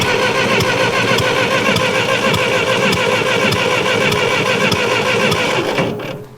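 A 1949 Ferguson TEA 20 tractor engine cranks over and runs, a loud, steady mechanical chug with rhythmic firing pulses throughout before dropping off abruptly near the end.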